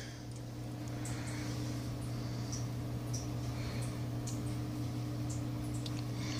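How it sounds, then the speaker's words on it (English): Fermenting rice, about 2,000 grams packed into a bottle of homemade makgeolli, gives off faint scattered pops and ticks over a steady low hum, with no talking. "Hopefully you can hear the popping."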